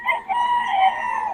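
Farm chickens cluck and crow in a continuous, close, moderately loud chorus, with a rooster's drawn-out call standing out over the flock.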